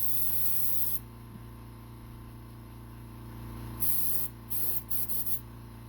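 Airbrush spraying an ink wash, sharp high hiss bursts that start and stop, a long steady spray then several short sputtering pulses over a low background hum.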